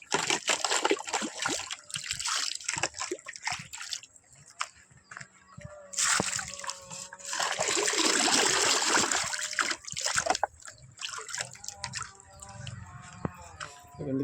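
Water for pet pigeons is poured and splashed into a container in several bursts, close and fairly loud, with a longer steady gush midway and a voice talking in between.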